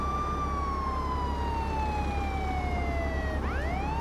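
A loud police siren in the video game Contraband Police sweeps steadily downward, then abruptly restarts with a rising whoop over a constant engine-like rumble.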